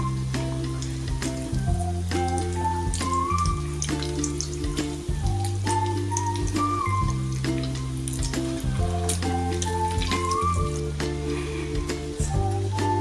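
Chicken sausage bread rolls fry in oil over a medium-high flame, giving a steady, continuous sizzle under melodic background music that plays throughout.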